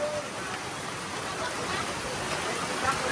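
Steady, dense wash of wind-driven rain from a tropical storm sweeping over rice fields and a field hut in Laos, a constant broadband roar with no breaks, close and enveloping.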